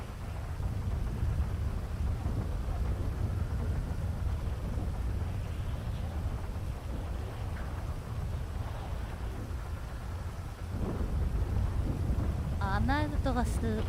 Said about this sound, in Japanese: 雷がうるさいです。